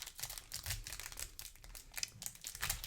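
Foil wrapper of a 2024 Topps Resurgence Football trading card pack being torn open, quiet close crinkling and ripping in quick irregular bursts, no talking.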